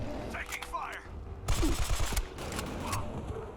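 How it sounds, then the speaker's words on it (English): Loud automatic gunfire from a modded weapon in the video game Fallout 4, a burst of rapid booming shots mid-clip, with quieter shots and action sounds before and after while someone talks over it. "your gun is really loud"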